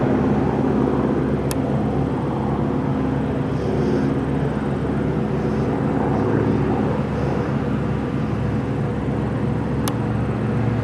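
A P-51D Mustang vintage fighter plane named Quicksilver makes a pass at an airshow, a loud, steady engine drone that stays continuous without letting up.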